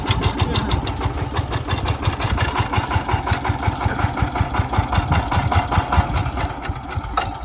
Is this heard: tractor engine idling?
yes